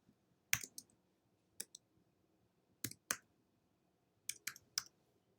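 Short bursts of keystrokes on a computer keyboard, a few quick clicks at a time separated by pauses, close and fairly quiet against a faint background hum.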